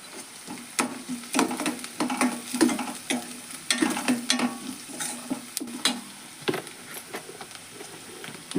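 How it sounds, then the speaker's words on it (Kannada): Potatoes fry in oil in a pan for a potato gravy, a continuous close sizzle broken by frequent spatula taps and scrapes against the pan in an uneven rhythm. "ನೋಡ್ರಿ, ಇವು ಎಣ್ಣೆ ಒಳಗೆ ಫ್ರೈ ಅದು ನೋಡ್ರಿ"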